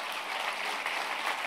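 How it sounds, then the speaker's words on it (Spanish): A congregation at a church devotional service claps in sustained applause, a dense steady patter of many hands filling the room without pause. "Denle un aplauso al Rey bendito."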